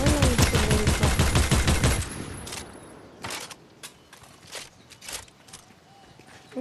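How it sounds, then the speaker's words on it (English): Rapid burst of gunfire in the video game Fortnite, a dense string of sharp shots for about two seconds, then scattered single shots and thuds at lower level. "I'm just shooting so I can reload."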